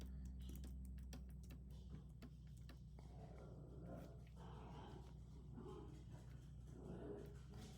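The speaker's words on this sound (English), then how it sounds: "Oh, the dog is being growly." A dog growls indoors in a low, steady rumble that runs through the whole stretch, with scattered light clicks like keyboard typing on top.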